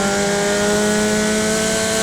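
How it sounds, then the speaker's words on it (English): A Formula Continental open-wheel race car at Sebring holds a loud, steady high-pitched engine drone with a slight brake lockup on a second-to-first downshift, the tone continuous and close for about two seconds. "I have a little lockup on my second to first downshift there"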